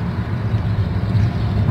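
Mercedes-Benz Atego trucks hauling apples accelerate along a road, a steady low engine drone with rough mid-range rumble rising slightly in loudness, close and continuous.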